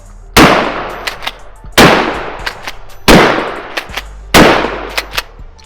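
A Mossberg 590 Shockwave pump shotgun fires four loud, booming shots at an even pace, each followed by a long decaying echo and the clack of the pump action.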